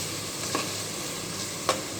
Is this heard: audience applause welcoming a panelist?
no